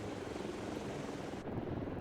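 A helicopter flies in the video game Delta Force, its rotor and engine making a steady, dense whir that stays constant and close, with a slight change in tone near the end.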